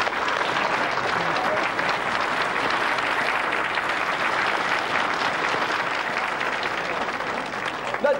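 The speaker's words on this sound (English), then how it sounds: "Let's give them a big round of applause." A live audience gives sustained, dense applause for the Four Eager Gospel Singers of Bessemer, Alabama, a steady roar of clapping that fills the whole stretch without pause.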